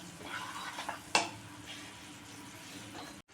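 Sugar syrup for gathi cooking down in a pan, with a steady soft sizzle and bubbling under a spoon stirring and scraping nearby, plus one sharp clink of utensil against the pan.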